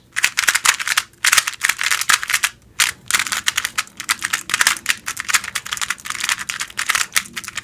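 A white tiled Shishuang 50mm 2x2 speed cube turns rapidly, its plastic layers producing a fast, crisp stream of clacks and rattling clicks, close and loud, with only brief pauses between bursts.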